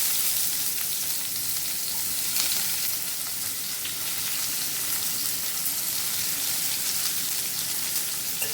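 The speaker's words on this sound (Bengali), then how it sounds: "এবার পেঁয়াজ কুচিগুলো তেলের মধ্যে দিয়ে দিচ্ছি" Chopped onions frying in hot oil with whole spices, a loud, continuous crackling sizzle close by, steady and unbroken, with faint stirring underneath.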